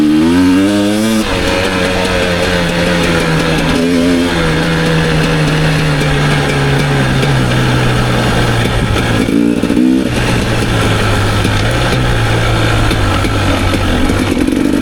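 A 2018 KTM EXC 250 TPI two-stroke dirt bike engine runs close and loud, revving up at first and then settling into a steady buzzing drone, with a brief blip of revs near the end.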